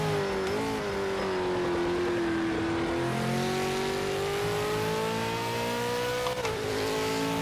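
Race car lapping Le Mans in a racing video game, a loud close engine note holding steady tones that rise and dip through gear changes along the straight, with no voices.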